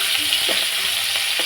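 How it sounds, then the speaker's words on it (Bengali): Potatoes fry in hot oil in a home kitchen pan, a continuous bright sizzle with a few soft stirring knocks, close and steady with no voices. "ডিমের আলুটা ভাজা হচ্ছে"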